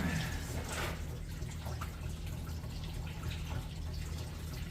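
Coolant drains from a 1999–2007 Chevrolet Silverado into a catch pan during a water pump replacement, a faint, steady trickle and splash with no talking.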